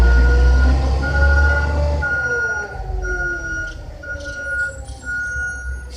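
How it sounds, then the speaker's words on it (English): A loud, noisy truck passes close by with a heavy low rumble and a repeating reversing-style beep, the roar fading as it moves away. "noisy truck of some sort."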